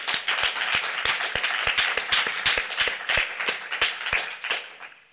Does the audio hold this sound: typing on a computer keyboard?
no